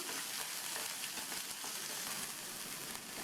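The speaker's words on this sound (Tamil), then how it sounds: "எல்லாத்தையுமே லைட்டாக வதக்கி விட்டுக்கலாம்" Onion and dried red chillies sautéing in oil in a pan, a dense, even sizzle with soft stirring, close and continuous throughout, with no talk.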